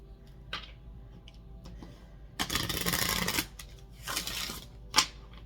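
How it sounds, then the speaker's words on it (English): Crisp riffling bursts of tarot cards being hard-shuffled, a long dense flurry followed by a shorter one and a sharp tap, close by. "I cannot get these cards to shuffle right now. I'm going to go ahead and do a hard shuffle."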